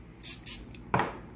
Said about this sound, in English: I'm spraying this fish down really good